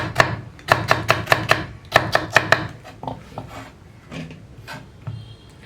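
A knife slices through mature okra (vendakka) on a board, making crisp, evenly spaced chopping taps in quick runs. Softer, scattered cuts and handling noises follow, close up and without talk.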